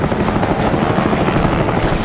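A Fokker fighter plane dives in a head-on pass, its engine a loud, dense, continuous roar throughout with no pauses.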